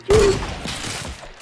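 Assault rifle fire in Fortnite, a sharp burst of gunshots at the start that fades into a softer tail, loud and close with no talk.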